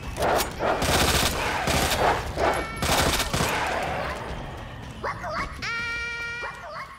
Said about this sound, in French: Ouais, d'autres chiens évidemment.